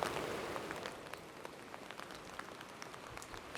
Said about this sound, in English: I'm getting fucking rain all over my phone